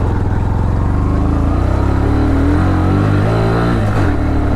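A Bajaj Pulsar NS125 motorcycle climbs a steep mountain road toward Mussoorie, its engine loud and close, revving with a rising, strained tone that swells toward the end amid wind noise.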